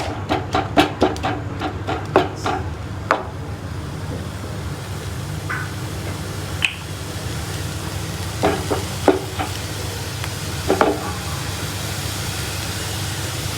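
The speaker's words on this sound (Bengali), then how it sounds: "একটু নাড়ব।" Garlic, onion and dried chilli fry in hot oil: a constant sizzle runs throughout, and spatula scrapes and clatters cluster near the start and again later on.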